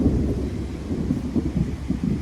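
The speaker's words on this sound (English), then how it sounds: "We're getting ready to get a good storm." Thunder from an approaching storm rumbles low and continuous outdoors, a heavy rolling boom with wind noise across the microphone and no talking.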